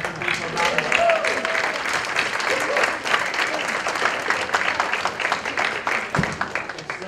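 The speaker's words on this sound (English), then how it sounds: "let's give the Bedford people a round of applause" Steady, full applause from an audience at a college president's open forum, sustained and fairly loud throughout with a faint voice or two underneath.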